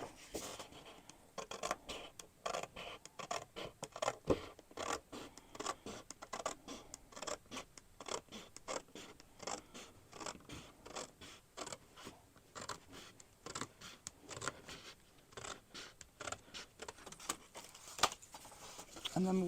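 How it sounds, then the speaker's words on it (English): Scissors cutting paper while making a handmade blank journal, a steady run of faint crisp snips and scratchy paper rustles, close and quiet, with a voice speaking intermittently. "I'll cut it all the way up."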